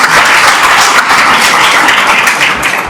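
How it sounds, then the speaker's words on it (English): A town hall audience at a State of the Town address applauds steadily throughout, a dense, even wash of clapping from many hands that holds at a constant loud level without any voices. "So there's no applause for that?"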